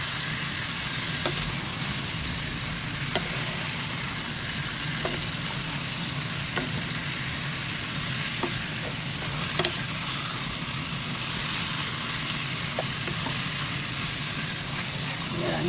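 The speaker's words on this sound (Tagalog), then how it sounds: "Haluin lang natin ito guys." Chicken adobo frying in a pan, a loud, continuous broadband sizzle with a few faint stirring knocks spaced every second or two, close up.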